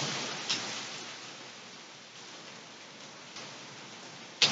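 Hurricane Irma's eyewall rain and wind lash a flooded porch in Palatka, Florida, a dense continuous hiss of heavy rain and gusting air close by, with a few sharp knocks and pops scattered through it.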